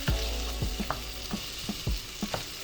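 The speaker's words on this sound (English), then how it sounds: "tomatoes cut in cubes, and then we add on our skillet. So we give a little mix" Diced tomatoes fry in a skillet with a steady hiss while a utensil stirs them, giving about eight distinct scraping knocks at uneven intervals, close and fairly loud.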